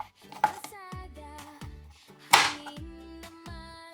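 Squash (kalabasa) halved with a knife on a cutting board in a home kitchen, giving several sharp, close thuds in an irregular rhythm, with one louder crack mid-way.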